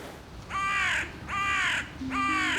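A crow in Kyiv caws three times in an even rhythm, each call harsh and fairly close, over a faint background hum.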